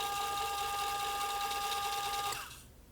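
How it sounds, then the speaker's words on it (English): A box seal labeling machine runs with a steady, close mechanical whir and a constant high tone, then winds down and falls quiet just before the end. "So now if we start the machine"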